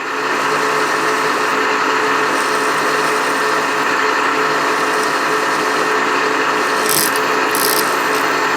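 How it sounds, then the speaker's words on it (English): A steady, continuous grinding whir of a high-speed steel drill boring a 4-40 screw hole into metal, loud and unbroken, with a couple of brief higher scrapes near the end. "Now I'm going to drill for a 440 screw hole"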